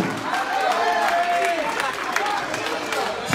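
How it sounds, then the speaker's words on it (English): A church congregation claps along during a worship service, a dense crowd patter of hands mixed with voices and cries throughout. "And now you both clap your hands up to that."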